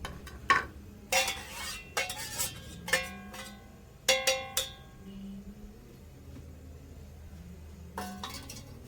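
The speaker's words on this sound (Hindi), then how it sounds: "अब मैं चूल्हे पे कढ़ाई रखती हूँ" Metal cookware clatters on a kitchen stove as a kadhai is set down, a string of sharp clinks and ringing knocks spaced unevenly over several seconds, close and fairly quiet against a low background hum.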